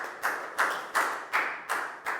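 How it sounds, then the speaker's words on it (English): A class claps for a student during a Year 4 maths lesson, six distinct rhythmic claps spaced evenly a little over a third of a second apart, close and moderately loud with no talk. "a big round of applause for Net"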